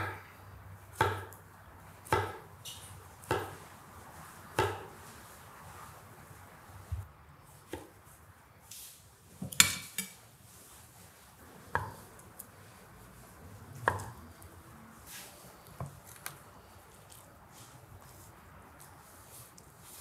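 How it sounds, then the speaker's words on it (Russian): A knife chops vegetables on a cutting board in sharp, separate strokes, starting in a steady rhythm and then turning irregular, close and distinct. "Готовим овощную нарезку."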